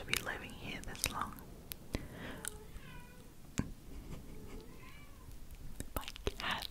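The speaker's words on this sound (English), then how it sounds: "My cat." A pet cat at home gives a couple of soft, drawn-out meows under close whispered talk, with scratchy rubbing and tapping on the microphone throughout.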